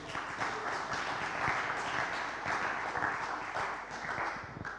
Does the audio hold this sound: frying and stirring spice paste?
no